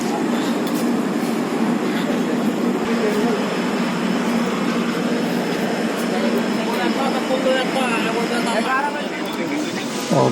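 A Pune Express passenger train pulls out of Danapur station, a steady rumbling roar of rolling wagons and rail noise running throughout, loud and continuous, with faint voices in the background.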